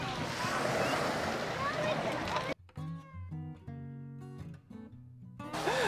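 Sea waves wash over a pebble beach in Nice with a loud, broad rushing roar. A stretch of music cuts in, and the surf returns at the end.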